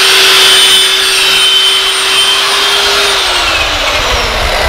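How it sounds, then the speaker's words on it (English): A drill with a 3/4 inch ship's auger bit bores into a log for anchor rods, a loud continuous motor whine that slowly drops in pitch near the end as it bogs under load. "I was using a 3/4 inch ship's auger bit to drill the anchor rods"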